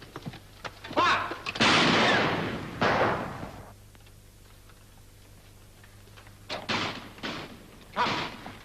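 In a 1937 period film, a gunfire volley sounds as several loud, overlapping blasts in one cluster. A quieter pause follows, then a second group of sharper shots.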